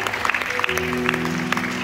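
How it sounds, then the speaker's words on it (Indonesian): A church congregation claps together in brief applause, with a steady musical tone sustained underneath, fairly close and moderately loud. "Yang percaya berikan tepuk tangan buat Tuhan."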